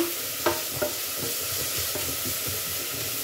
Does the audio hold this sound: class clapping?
no